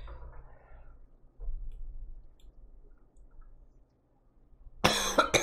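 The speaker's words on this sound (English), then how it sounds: "Man, that coughing is annoying." In the city-building game Cities: Skylines, a short, loud burst of coughing breaks through near the end after a stretch of faint low background hum.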